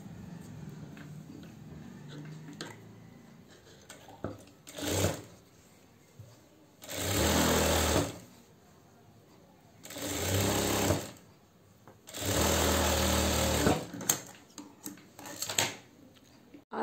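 An electric sewing machine stitches the seams of a salwar in four distinct bursts of whirring, each lasting one to two seconds, separated by quieter pauses with small handling clicks.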